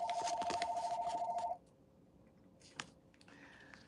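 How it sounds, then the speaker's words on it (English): A telephone rings indoors with a fast, warbling electronic trill lasting about a second and a half, then cuts off into quiet room tone with a faint click. "Sorry about the phone."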